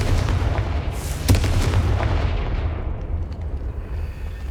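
Confringo spell blasts in Hogwarts Legacy on PS5, a burst of booming explosive impacts followed by a rumbling tail that fades out, loud and close with no talk over it.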